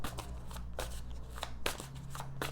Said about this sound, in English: I'm just going to shuffle a bit.